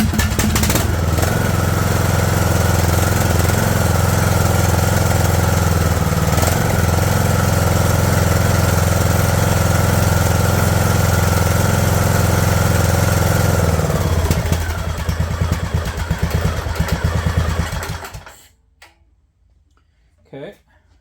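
Craftsman LT2000 lawn tractor engine running without choke, a loud steady rattling drone close up that roughens near the end, then cuts out and dies to near silence.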